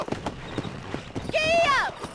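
A horse in the Red Dead Redemption video game clip-clops at a gallop, with a loud neigh rising over the hoofbeats partway through and people talking over it.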